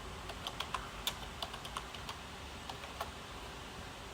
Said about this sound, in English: Then to verify, I will type.